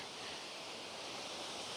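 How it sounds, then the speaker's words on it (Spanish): Steady rushing water roars continuously, a broad, even hiss like a small waterfall in Colombia heard from a short distance, with no voices. "Ya escucho el sonido de la cascada."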